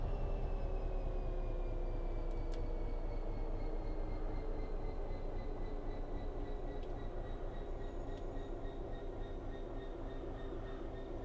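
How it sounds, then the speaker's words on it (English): A London Overground train on the Mildmay Line in Train Sim World 5 approaches from behind, a steady low rumble with rising tonal whine and faint hum building slowly, alone with no talk. "is that train coming in behind us"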